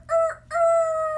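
A rooster crows loud and close in a clear, sustained cock-a-doodle-doo, with a brief break before the long final note.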